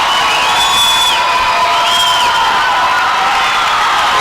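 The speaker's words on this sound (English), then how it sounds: "a big crowd here from Doniphan tonight to see both teams win the championship" A big home crowd cheering at a high school basketball championship trophy presentation, a loud continuous roar of shouts and whoops carrying on for the whole stretch.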